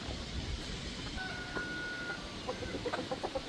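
Buckeye chickens cluck softly at a distance against an outdoor background hiss, with a few short calls toward the end and no talking.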